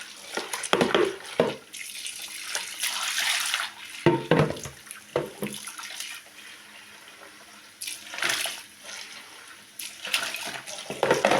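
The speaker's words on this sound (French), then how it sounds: "Là, je mets de l'eau chaude." Hot water running from a tap into a basin in bursts, splashing and gurgling loudly up close, with pauses where the flow stops and starts again.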